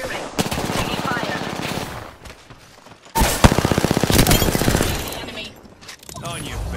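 Rapid automatic gunfire in Apex Legends, two long loud bursts of fast repeated shots separated by a quieter stretch, with in-game voice lines heard alongside.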